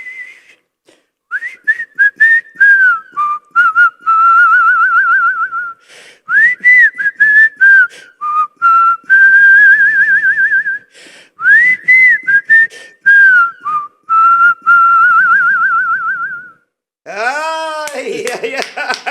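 A man whistles a folk tune, loud and close, in quick sliding phrases broken by short pauses, and near the end a burst of sharper, rising notes.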